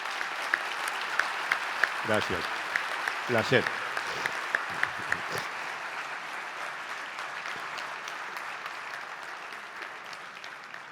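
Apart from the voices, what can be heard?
audience applause for the guest Eduardo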